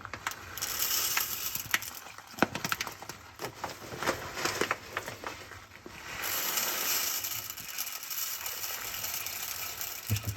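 Purina One dry cat food pellets are poured into a container, producing rattling, clattering bursts of small hard pieces, with a steadier rush of pouring in the second half.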